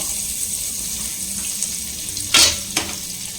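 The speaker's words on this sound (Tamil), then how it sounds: "இப்போ வந்து பட்டர் எடுத்துர்க்கேன். பட்டர் வந்து நல்லா மெல்ட் ஆகட்டும்" A soft, steady sizzle of butter melting in a hot pan, with a brief louder clatter near the end and no talking.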